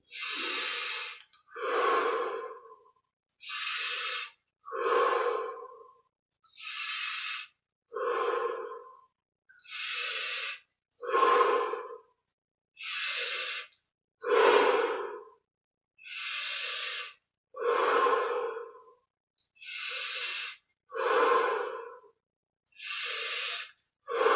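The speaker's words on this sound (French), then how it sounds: "on prend 20 respirations profondes" Deep, forceful breaths during a Kriya Yoga meditation exercise: about twenty rhythmic inhale-exhale cycles at a steady pace, close and clear with no talking.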